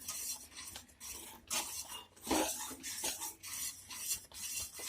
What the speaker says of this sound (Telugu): 1 స్పూన్ యాలకుల పొడి వేసుకోవాలి మంచి ఫ్లేవర్ కోసం. బాగా కలుపుకోవాలి మొత్తం కలిసేలాగా.